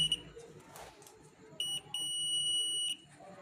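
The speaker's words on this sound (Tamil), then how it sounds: "பீப் சவுண்டில் வச்சு பார்த்துக்குறோம்." A multimeter set to continuity mode gives a steady high-pitched beep during a wire check while a junction box is assembled, a brief chirp followed by a sustained tone lasting about a second, with faint handling noise around it.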